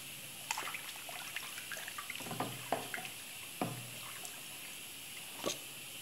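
Tap water runs in a sink while something is rinsed under it, with light splashes and drips that stay fairly quiet throughout. Occasional clinks and handling noises break in over the trickle.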